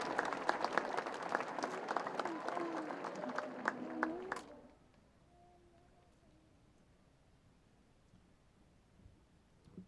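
An audience at the Connellsville Area School District 2024 graduation ceremony gives a dense round of applause for graduating students, then the clapping stops abruptly about halfway through and leaves a quiet, faint room.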